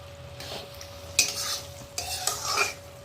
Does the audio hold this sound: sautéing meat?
yes